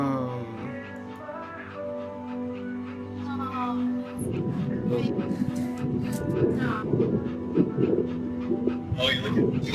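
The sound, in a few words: puppy panting and whimpering in video game That Dragon, Cancer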